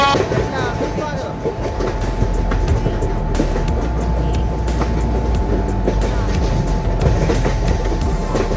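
Tejas Express train running in a train simulator game, a steady rumbling rail drone with a constant hum and faint clickety-clack throughout, continuous and fairly loud.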